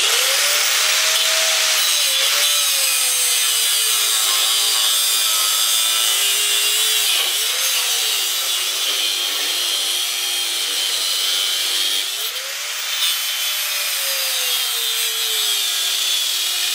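A hydraulic hose being cut with a power tool, giving a loud, steady grinding and rasping that runs continuously, with the motor pitch dipping and recovering several times as the blade bites.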